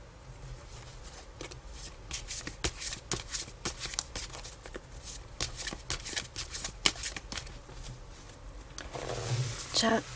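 Tarot cards being shuffled in a steady run of crisp riffling flicks, close and fairly loud, continuing for about ten seconds with no talk.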